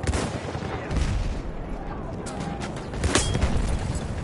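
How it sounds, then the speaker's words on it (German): Gunfire bursts in Battlefield 1 with a noisy, busy background; a sharper shot from a self-loading rifle cracks out near the three-second mark. "Ein Schuss."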